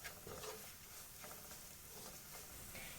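A spice masala of chilli, garam masala and pepper powder fries in a pan for a chicken masala fry, with a soft continuous sizzle and occasional stirring scrapes, quiet and close, with no voices.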